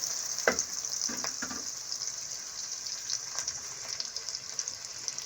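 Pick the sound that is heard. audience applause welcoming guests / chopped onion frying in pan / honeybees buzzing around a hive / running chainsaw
chopped onion frying in pan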